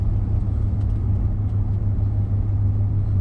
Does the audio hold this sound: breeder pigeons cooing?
no